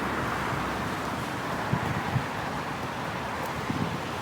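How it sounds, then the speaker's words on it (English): Light outdoor wind from the southwest buffets a microphone, making a steady, low rumbling whoosh with a few soft bumps, continuous throughout with no voices. "It's a little bit windy out today, but not too much"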